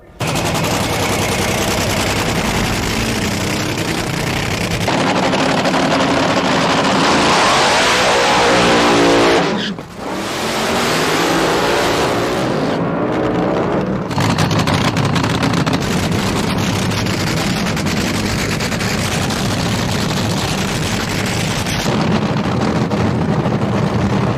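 A nostalgia nitro Top Fuel dragster makes a drag racing pass, its engine a loud, sustained roar filling the whole clip with a brief dip midway, then roaring on at full volume to the end.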